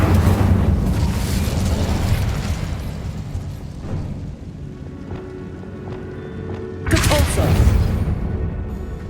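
An Incendio fire spell blasting in the Hogwarts Legacy video game, heavy rumbling bursts of flame with a loud whoosh near the start and another surge toward the end, over game sound effects.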